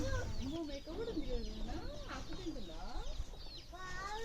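A hen clucking in a series of short, rising calls close by, with other fowl chattering around it.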